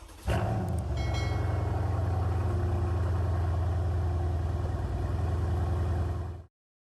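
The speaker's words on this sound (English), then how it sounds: "So when I do that, you can hear the engine." A race car engine in the iRacing sim drones loudly and steadily after a brief revving start, a dense, continuous mechanical hum that holds for several seconds before cutting off abruptly.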